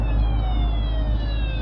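A security camera alarm siren mounted on an abandoned house, wailing in steady falling sweeps, loud and close, with no talk over it.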